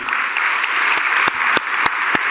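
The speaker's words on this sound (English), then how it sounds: "I just thought we should give a big round of applause to Aricia and Faye" Audience applause fills the room at the TUFH 2019 closing ceremony: loud, steady clapping with a few sharp, close claps standing out near the end.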